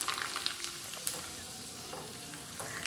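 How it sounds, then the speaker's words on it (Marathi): Homemade potato chips fry in hot oil over a gas flame, giving a steady close sizzle with scattered crackles and pops throughout. "तळताना मात्र अगदी सुरुवातीला तेल गरम झालं की लगेचच ते गॅस कमी करूनच हे तळावं लागतंय"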